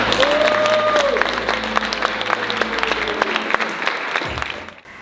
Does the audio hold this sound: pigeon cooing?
no